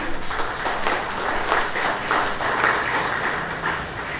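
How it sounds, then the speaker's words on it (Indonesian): Audience applause at a speech by a provincial official, a steady spread of clapping from a crowd lasting the whole stretch at an even, fairly loud level with no voices over it. "Tepuk tangannya agak terlambat."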